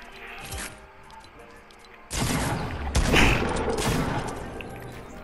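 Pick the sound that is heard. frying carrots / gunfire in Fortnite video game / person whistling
gunfire in Fortnite video game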